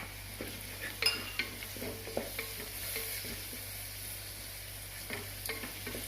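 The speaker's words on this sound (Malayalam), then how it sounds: "ഇനി ഈ ഇഞ്ചി വെളുത്തുള്ളി പേസ്റ്റിൻ്റെ മണം ഒന്ന് ഇതാവണ വരെ നമുക്കൊന്നുകൂടി ഒന്ന് വഴറ്റിയെടുക്കാം" Ginger garlic paste with turmeric sizzles softly in a pan as a spoon stirs and scrapes, giving occasional light metallic clinks while it is sautéed for chicken curry, with no talking.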